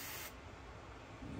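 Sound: spraying a fine line of paint on a fishing lure

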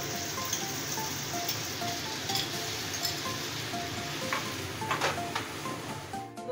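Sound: green chili paste added to pan, frying and stirring

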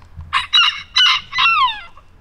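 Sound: chickens clucking and rooster crowing

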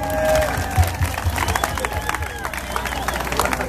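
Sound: dance lesson participants applauding

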